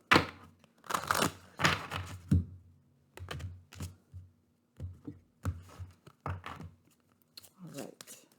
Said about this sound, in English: Take one more shuffle.